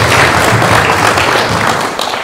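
People at a local council meeting in Poduri applaud in a loud, close burst of clapping that continues without pause for a couple of seconds.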